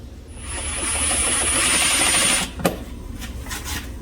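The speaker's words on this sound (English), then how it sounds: "so I'll take and screw this in" Power screwdriver driving a screw through an electrical outlet box into a wall stud, a steady whirring buzz for about two seconds that stops abruptly, followed by a sharp knock and light handling clatter.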